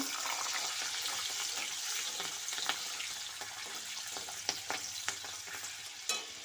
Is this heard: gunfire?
no